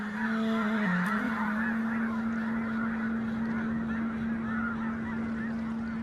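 A huge flock of red-breasted geese lifts off together on migration in the Danube Delta, a dense, continuous wall of honking and calling that stays loud and steady throughout, with no voices.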